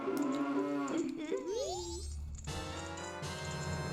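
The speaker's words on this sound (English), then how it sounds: "I heard the cow moo" Cow mooing in a video game, a loud, drawn-out moo with gliding pitch over game music, followed by further tonal sounds and no talk.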